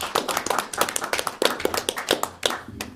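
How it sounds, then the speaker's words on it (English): Scattered hand clapping from a small group at a village board meeting, individual claps distinct and uneven, fairly quiet and close. "I think a round of applause is appropriate for our staff"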